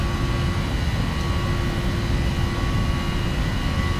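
A PMDG 737NGX airliner rolls down the Melbourne runway for takeoff in the FSX flight simulator, a steady loud engine roar with a thin high whine, unbroken and without speech.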